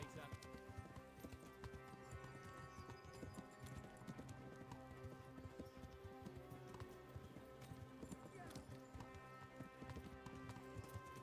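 Steady clip-clop of horse hooves at a brisk gait in the video game Kingdom Come: Deliverance, continuous and even, heard faintly under talking voices.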